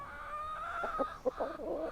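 A rooster makes a few soft, throaty clucks and short crowing calls close by, quiet against a faint outdoor background.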